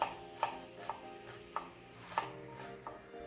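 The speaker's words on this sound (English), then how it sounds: "So I'm just going to chop this up quickly." A knife chops half a red onion on a board. About seven crisp, quiet knocks come at an uneven, brisk rhythm, with no voices.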